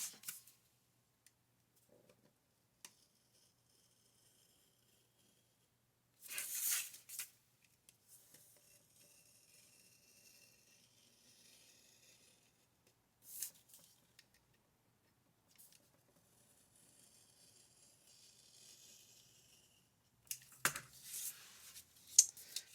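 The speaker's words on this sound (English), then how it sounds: "So I'm going to cut out this section here. I'm going to use a knife," A craft knife cuts through a paper flexagon section, making a few faint scraping and slicing bursts separated by near-silence.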